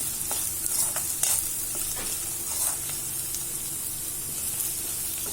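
Okra stir-fried in a pan until crisp, giving a steady close sizzle and hiss with soft scraping stirs throughout, no voices.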